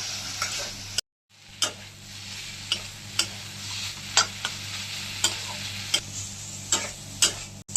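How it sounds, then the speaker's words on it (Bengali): Drumsticks coated in poppy seed and mustard paste sauté in a pan, a low continuous sizzle punctuated by regular spatula taps roughly every half second, with a brief dropout near the start and no speech. "এখন আমি আর একটু কষিয়ে নিচ্ছি"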